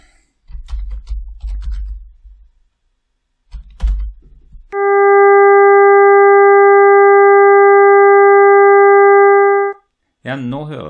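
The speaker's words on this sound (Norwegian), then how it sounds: "nå høres det nesten ut som tonen fra en trompet" A synthesized tone that sounds almost like a trumpet holds steady and loud for about five seconds, with rich even harmonics. Someone speaks Norwegian before and after it.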